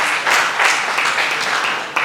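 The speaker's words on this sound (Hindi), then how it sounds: "उनके लिए तालियां" Seminar audience at an income tax Q&A breaks into brief, moderately loud applause, a dense patter of many hands that fills the short moment without talk.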